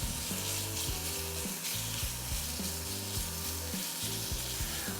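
Skirt meat fries in olive oil in a cast iron pan on a fast-heating induction burner. A steady, close sizzle runs unbroken throughout, with no talking.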